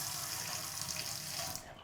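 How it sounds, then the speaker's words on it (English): Hot water runs steadily from a sink tap at a homestay in Saigon, Vietnam, a continuous close hiss of flowing water that cuts off abruptly near the end, with no talking. "there will also be hot water coming out of the sink"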